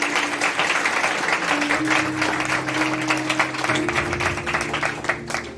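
Loud, sustained applause from a church congregation during a Palm Sunday sermon, a dense continuous wash of clapping with steady tonal music held underneath throughout.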